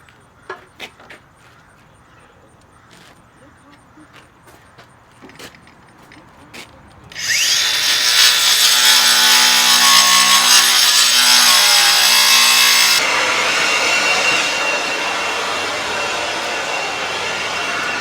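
Cordless 4.5-inch DeWalt grinder with a diamond-tip blade cutting: a few light knocks first, then a loud sustained high whine that starts abruptly, holds steady and drops slightly in pitch near the end, close by.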